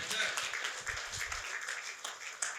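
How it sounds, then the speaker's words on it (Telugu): A crowd at a Telugu group meditation and lamp-lighting gathering applauds steadily to welcome a guest onto the stage, the dense clapping running throughout at moderate loudness. "గట్టిగా చప్పట్లు"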